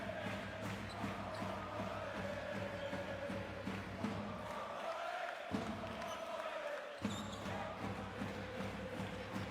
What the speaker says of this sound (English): Good noise from the crowd here.